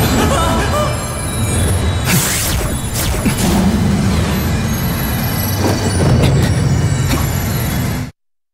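A train in the video game Etheria Restart departs, rumbling and rolling along loudly and steadily, with metallic wheel squeals, before cutting off abruptly.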